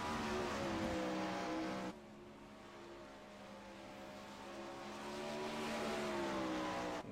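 World of Outlaws sprint car lapping the Knoxville dirt track, a high harmonic engine whine that drops abruptly, then climbs again as the car accelerates, heard from a distance and fairly faint.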